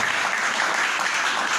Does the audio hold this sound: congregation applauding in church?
yes